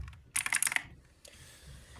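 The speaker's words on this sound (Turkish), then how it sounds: "Switch türü Blue Switch mekanik mekanik bir klavye" Clicky typing on a BlueForce Runner mechanical keyboard with blue switches: a quick burst of several sharp, close keystrokes, a pause, then a few lighter taps, with no talking.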